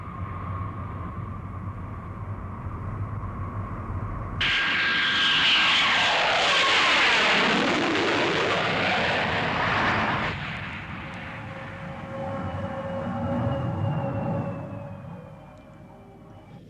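A jet airliner lands at Hong Kong, engine roar swelling suddenly into a loud reverse-thrust rush, then easing back into a steady whine as the aircraft slows on the runway.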